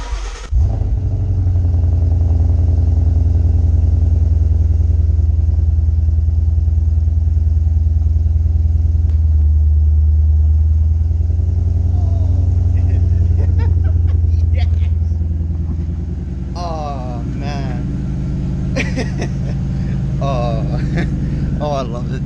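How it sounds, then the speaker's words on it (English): A loud V8 car engine rumbling with a deep, powerful idle that swells and holds, then eases off as a few brief revving bursts and other sounds break in near the end. "This car is so nice and loud."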